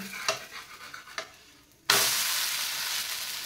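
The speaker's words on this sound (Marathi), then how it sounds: "पुन्हा एकदा वरून थोडंसं तेल टाकायचं आहे आणि आपल्याला आता हा नाश्ता पलटी करून घ्यायचा आहे" Soybean and moong dal snack in a pan: a few light scrapes and taps, then oil is added and a sudden loud sizzle erupts and holds steady.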